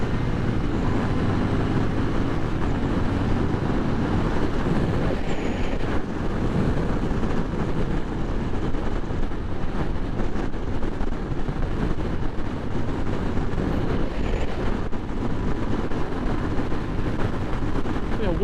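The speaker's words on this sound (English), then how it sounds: "The wind is so prominent though on a naked bike" Wind roaring over a rider on a Royal Enfield Interceptor 650 naked motorcycle, a constant loud broadband rush with the engine buried underneath, steady for the whole stretch and no talking.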